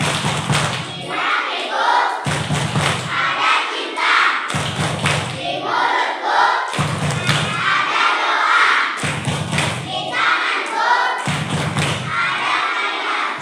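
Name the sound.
children doing a rhythmic success clap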